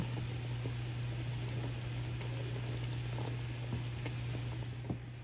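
Strawberry jalapeño jam simmers quietly in a pot, barely bubbling, with soft, scattered little pops and bubbles over a steady low hum, faint and continuous.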